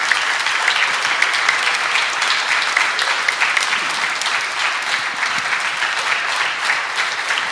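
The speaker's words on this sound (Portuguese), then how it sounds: "Vou dar uma salva de palmas para Jesus Cristo." A church congregation claps for Jesus Christ in sustained, dense applause at a service, a loud, even roar of many hands that fills the room throughout.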